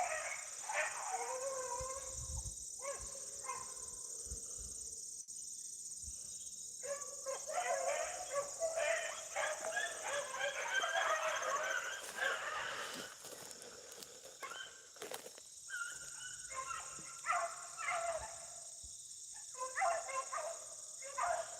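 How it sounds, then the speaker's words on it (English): A pack of beagles bays and howls in broken, overlapping bursts while running a rabbit outdoors. The hounds sound distant, with quiet gaps between volleys. "They ain't no better sound or music than listen to a good pack of dogs run."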